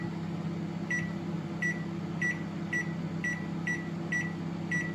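A microwave oven hums steadily with a low drone while a series of short, evenly spaced beeps sounds over it, fairly quiet and close in a home kitchen.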